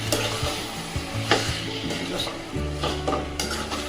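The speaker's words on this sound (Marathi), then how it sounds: "त्याला आता चांगलं असं मिक्स करून घेऊया" Chicken biryani masala mixture is stirred in a pot, with a soft sizzle under repeated spoon scrapes and clinks against the metal, close and steady with no talk.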